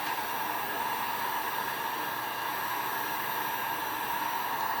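A heat gun warms heat transfer vinyl on a stainless steel tumbler, producing a constant close airy whoosh and fan hum, steady and unbroken throughout.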